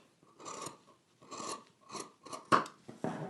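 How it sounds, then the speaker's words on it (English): Scissors snip along a fabric flap during sewing, giving five or six close, crisp cuts in an uneven rhythm, each a short rasping crunch of blades closing. The last cuts are sharper and louder, with no voices. "So I'm just going to trim that down to about a 1/4 of an inch."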